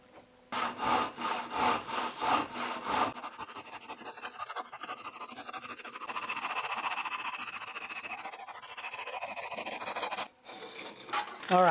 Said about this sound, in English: finish cutting this off with the bandsaw